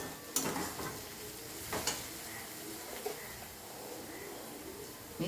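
Onion and green chilli fry in a pan with a little salt, giving a faint, steady sizzle with a few soft stirring clicks and no talking.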